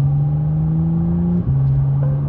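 2023 McLaren Artura sports car engine humming steadily up close, its tone stepping down briefly before settling back into a smooth drone.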